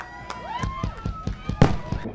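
Fireworks pop and crackle in a rapid series of sharp bangs at the McCall Winter Carnival opening ceremonies, with whistling streaks rising between them and a crowd murmuring underneath.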